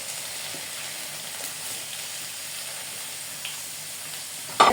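Chopped ingredients for chicken biryani fry in oil with an even, close sizzle that stays steady, ending in a sudden louder clatter and hiss, with no speech.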